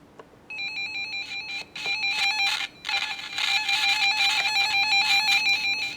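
Electronic tones and beeps from a Midland radio in test mode, steady high pitched tones with brief dropouts and static hiss, fairly loud and continuous.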